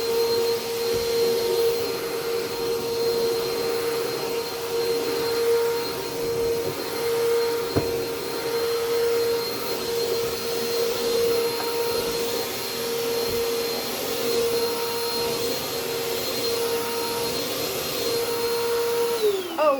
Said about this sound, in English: this vacuum was a gift from Dana.